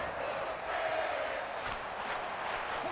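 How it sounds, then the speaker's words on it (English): Noise from a football stadium crowd at a preseason NFL game forms a dense, steady wash of roaring voices, moderately loud and continuous, with a few brighter shouts standing out toward the end. "this crowd doing their best to make a lot of racket"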